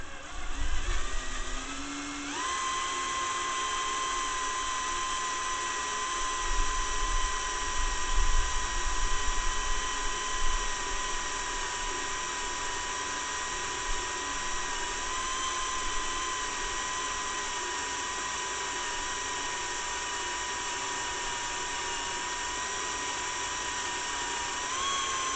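A power drill whines steadily at a constant pitch for a long stretch, grinding as it bores into a metal mud mower front hub lubricated with PB Blaster, with a brief rumble early on.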